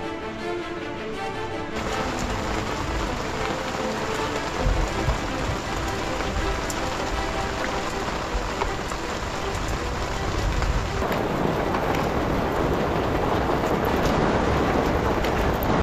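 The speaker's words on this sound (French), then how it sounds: "Bon, alors, première averse" Rain shower falling on a sailboat in dry dock at a port, a dense, steady patter and hiss of drops on the hull and deck that continues throughout and grows heavier toward the end.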